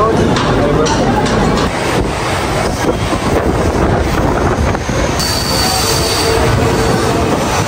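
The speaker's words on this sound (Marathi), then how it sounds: "मित्रांनो आमची पण ट्रेन आलेली आहे" A local train pulls into a station platform at Khar in Mumbai, loud rumbling wheels and clatter with wind buffeting the microphone and a faint squeal later, while people talk nearby.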